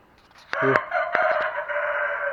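A rooster crows among chickens in a backyard, a loud drawn-out call near the start followed by further clucking and cackling, fairly close over a quiet outdoor background.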